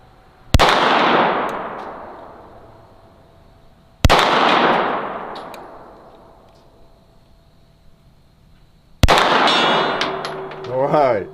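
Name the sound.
bullets hitting a steel gong target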